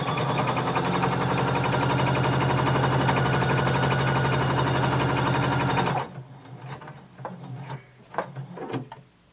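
Sewing machine backstitching and sewing a dress bodice seam, a loud continuous mechanical whir for about six seconds, then it stops and a few faint clicks and handling noises follow.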